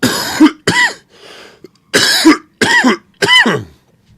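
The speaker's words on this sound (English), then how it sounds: "It is a pyro main, excuse me, for my coughing." A run of harsh, loud coughs from one person close by, five or six bursts in quick succession with brief gaps between them and a short wheezy breath partway through, no speech.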